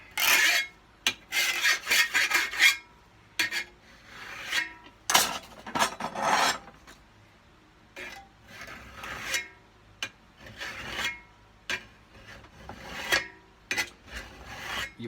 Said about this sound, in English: So you take a mill file, a steel mill file